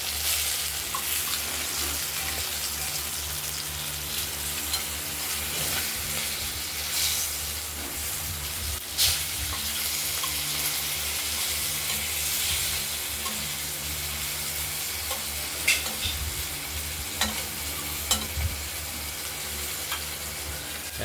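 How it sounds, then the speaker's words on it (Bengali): Pieces of cut rohu fish fry in hot oil in a pan, a continuous dense sizzle and hiss with occasional pops and spatula scrapes, close and steady for about twenty seconds. "এক করে মাছগুলো আমরা ভেজে তুলে দিচ্ছি"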